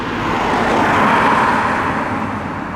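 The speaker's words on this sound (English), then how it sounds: "going for a drive in the 2020 Mercedes Benz CLA" A 2020 Mercedes-Benz CLA drives along a road, its steady cabin-side engine and tyre roar holding a constant level throughout, with no talking.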